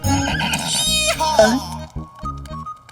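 A horse in an Aladdin and Yasmine cartoon lets out a loud, wavering neigh that rises and falls over about a second, followed by quieter snorting sounds, close and prominent.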